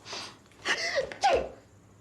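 A single close human sneeze: a sharp inhaled build-up followed by an explosive burst and a brief trailing exhale, loud against a quiet indoor background.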